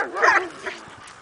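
A dog doing defense training gives a single sharp bark followed by a softer yip, close and loud, in a very brief burst.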